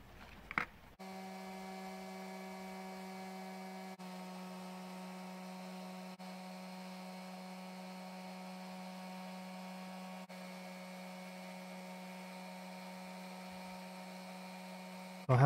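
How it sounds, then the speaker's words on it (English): A pointed rotary bit polishing the inside of a steel tube, producing a steady, even electric motor hum that runs nearly unchanged for most of the clip, with no voices. "So I have polished it inside with the pointy bit"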